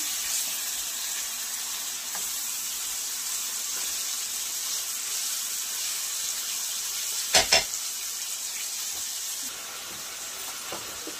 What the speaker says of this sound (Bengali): সবগুলো মাংস আমি এভাবে ভেজে নেব, হালকা করে ভেজে